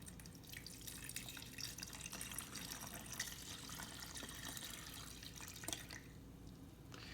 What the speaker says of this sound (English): turn it upside down, and now we're going to pour our nectar in.